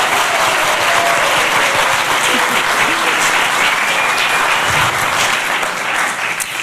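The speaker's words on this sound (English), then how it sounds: "I would love everybody to give them a round of applause." A large crowd applauds continuously, dense steady clapping filling the whole stretch at a loud, even level.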